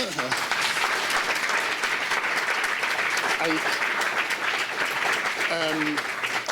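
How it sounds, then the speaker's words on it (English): Steady applause from a crowd at an exhibition opening lecture fills the whole stretch, even and sustained, with a few brief vocal sounds rising above it. "Please give them an applause."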